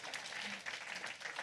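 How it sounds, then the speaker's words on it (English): A hall audience gives a round of applause for panelists after a discussion at an NUS homecoming event, with soft, continuous clapping heard at a distance and at low volume. "please join me in a round of applause again for our panelists"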